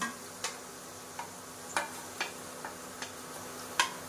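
Spices tempering in hot oil for a mushroom and prawn fry, with a soft steady sizzle behind a series of small sharp pops and spatters at irregular intervals, close up and quiet.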